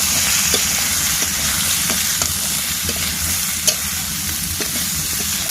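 Green banana, potato and onion being stir-fried in a wok, with green chilli also in the pan: a loud, continuous sizzle broken by regular scrapes of a spatula on the metal.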